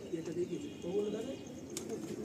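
A Mangalgiri pigeon, an Andhra Pradesh breed, gives low, soft cooing phrases at close range, with voices talking around it.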